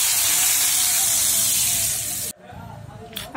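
Hot frying oil hits ground chili for Minang linyak taruang and erupts into a loud, bright sizzle that holds steady, then cuts off abruptly, leaving quiet kitchen sounds and a faint later hiss.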